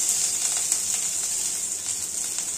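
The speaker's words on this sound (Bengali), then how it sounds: "গরম তেলে লঙ্কা কুচি দিয়ে দেব" Chopped green chilies sizzle steadily in hot oil while dal with pointed gourd is being made, a continuous bright hiss with small crackling pops throughout, close and alone with no voices.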